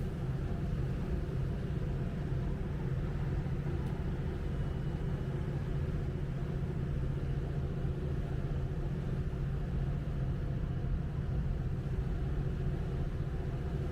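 A ferry's engine drones with a steady low rumble throughout the nine-mile crossing of Pamlico Sound to Ocracoke Island, constant and unbroken with no voices.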